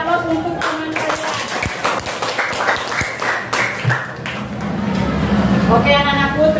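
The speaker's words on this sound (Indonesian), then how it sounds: "beri aplaus untuk teman kalian" A classroom of students applauding a classmate, a burst of close, brisk hand clapping that thins out, followed by a teacher talking.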